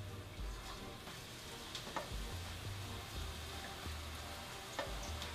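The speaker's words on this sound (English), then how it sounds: "we're going to just start frying this off. That's the sound you want." Battered cauliflower frying in hot oil gives a steady, dense sizzle and crackle throughout, with occasional light clicks of stirring or separating the pieces close by.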